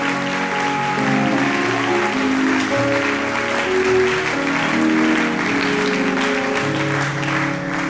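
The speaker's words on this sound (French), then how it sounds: "Est-ce qu'on peut acclamer?" A church congregation applauds in steady, sustained clapping, with musical tones sounding alongside it throughout.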